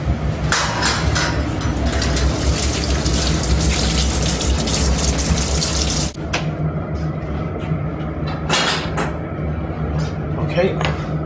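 Tap water gushes steadily while poultry giblets are washed, a loud close stream that cuts off partway through, followed by quieter handling clatter.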